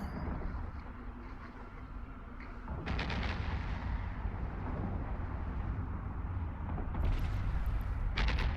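Ship weapons fire in the Eve Online space game as a low, steady rumble, with a few sharper bursts cutting in; the sound stays fairly quiet throughout.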